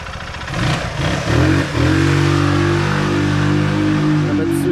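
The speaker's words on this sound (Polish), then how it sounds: "naprawdę dosyć głośno ten silnik zaczyna pracować, troszeczkę wyje" A Bashan 200 quad bike engine revs up and settles into a loud, steady whine with a buzzy drone, close by and continuous for several seconds.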